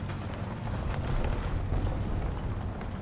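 A single BMD-4M cannon shot fired in a video game, a broad deep blast that rolls out into a long, loud rumbling tail with no speech over it.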